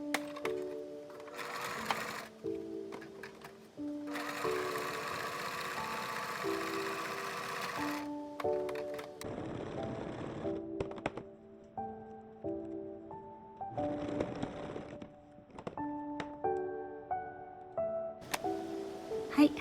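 A sewing machine stitches a fabric seam with a 1 cm seam allowance, its motor whirring in bursts of different lengths, stopping and restarting with short pauses between runs, close and clear.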